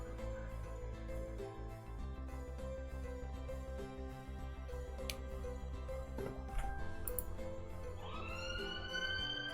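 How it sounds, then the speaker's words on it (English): A police siren wails steadily in the distance, a faint rising and falling tone that sits under a busy background hum and runs throughout without talk. "Sorry about the siren."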